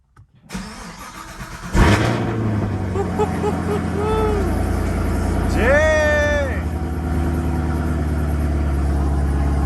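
A 650 hp Chevrolet Camaro ZL1 1LE V8 fires up with a loud burst, then settles into a deep, steady idle rumble close by, with a person briefly talking over it.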